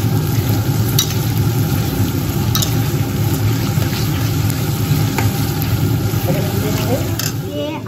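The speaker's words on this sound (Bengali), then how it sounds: "পেঁয়াজগুলো একটু লাল লাল করে ভেজে দিতে হবে" Onions fry in a pan for a Bengali mutton curry, a constant dense sizzle with a low rumbling undertone and occasional clicks of stirring.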